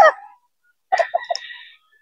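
A rooster gives a short crow: a brief opening call, a pause, then a choppy, strained cock-a-doodle-doo that trails off, close and clear against silence.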